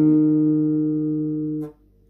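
A single sustained bass guitar note rings steadily and loud during tuning, fading slightly before being cut off with a soft click, followed by near silence.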